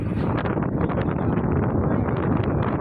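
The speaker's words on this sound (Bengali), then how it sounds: "খুব হাওয়া লাগছে" Strong wind buffets an open side of a moving vehicle, a steady broadband roar and rumble that stays loud and close for the whole stretch, with no voices.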